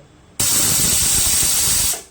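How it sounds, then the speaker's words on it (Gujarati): A pressure cooker on a low flame cooking soya chunk biryani suddenly lets out a loud, steady hissing whistle of escaping steam, holding for about a second and a half before tapering off, with no voices. "હવે આપણે માત્ર સ્લો ફ્લેમ પર 2 જ વિસલ વગાડવાના છે."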